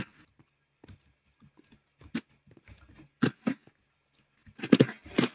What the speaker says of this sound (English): why does your keyboard does like a loud sound?